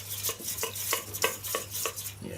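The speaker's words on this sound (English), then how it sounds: "And just mix it in" Water being stirred into icing sugar in a bowl, a steady rhythmic scraping and clinking of a utensil against the bowl repeating about twice a second, close and continuous, with no talk.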